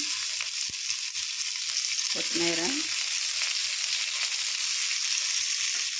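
Curry leaves sizzle in a little oil for a tempering, a steady close frying hiss that runs throughout, with a brief spoken word partway through.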